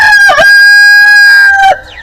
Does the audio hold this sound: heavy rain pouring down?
no